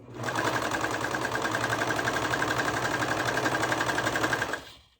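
A serger stitching a quarter-inch seam along fabric, a fast, steady mechanical whirring hum with rapid rhythmic ticking, close and loud, running evenly before winding down at the end.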